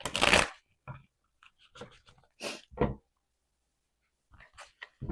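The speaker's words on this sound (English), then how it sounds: "Enough of the shuffling." Tarot cards being shuffled close by in short crisp riffling bursts separated by pauses, with quick flicking and sliding sounds in a quiet room.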